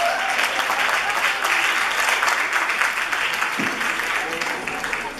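Audience applause at a club performance by a youth troupe, steady and dense throughout with a few raised voices briefly heard over the clapping.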